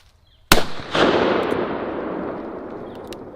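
A Raging Bull firework goes off at a deer camp with a sudden sharp crack, a second thump a moment later, then a long rumbling roar that fades slowly, loud and outdoors.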